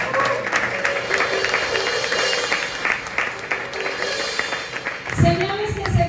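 A church congregation applauds, a continuous wash of clapping mixed with voices and music that swells near the end.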